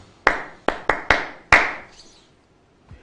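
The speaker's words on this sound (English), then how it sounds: "let's give them a round of applause" Five sharp, fairly loud claps, spaced out and separate, fade within a couple of seconds, followed by a faint thump near the end. They come as a short round of applause in a Ghanaian morning TV studio.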